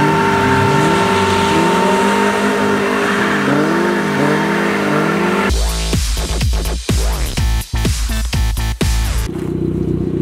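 A car drifting on spare tires at a large abandoned airport, its engine loud and close, first holding a wavering high rev, then bursting into sharp, rapid revving with abrupt throttle blips and cuts.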